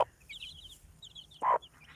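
Soft high cheeping of chicks comes in short bursts, broken by one louder low cluck from a hen, close by.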